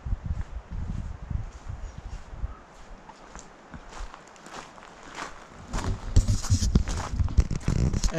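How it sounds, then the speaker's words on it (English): Strong wind gusts outdoors buffet a small action camera's microphone, producing irregular low rumbling bursts that fade and then surge again more heavily toward the end. "it's pretty windy out here today"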